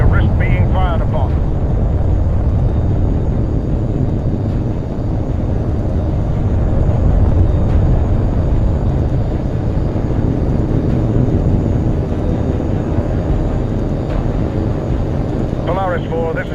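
A jet aircraft engine in the video game H.A.W.X. 2 gives a continuous, loud, low roar throughout. Brief radio-style voice chirps appear at the start and end.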